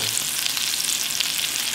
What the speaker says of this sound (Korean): 불을 좀 약하게 놓고서 놀놀하게 튀기는 거고